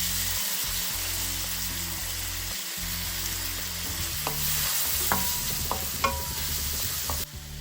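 Chopped tomato is added to a frying pan for upma and stirred: a steady, close sizzle of frying runs throughout, with scraping stir strokes and a few sharp clinks of the spoon against the pan.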